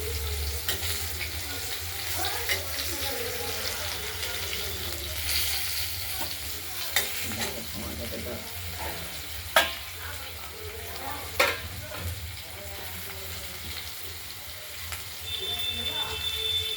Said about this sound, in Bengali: আলুটা একটু লালচে করে ভেজে নেব।